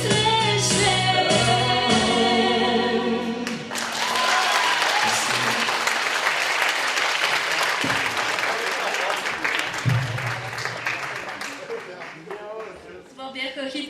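A music show audience breaking into applause as a song ends, the last sung notes fading into loud sustained clapping that holds steady, with a voice talking over it.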